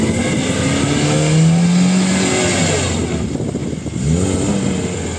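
A carburetted Lada Niva on bald tyres, stuck in place, revs hard with a loud, sustained engine roar that rises and dips while its wheels spin.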